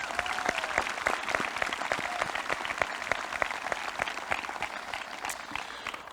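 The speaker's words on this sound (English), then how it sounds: "Can we please give a round of applause to Mrs." Applause at a high school graduation ceremony, with distinct claps standing out against a steady wash of clapping from the audience, moderately loud and continuous throughout.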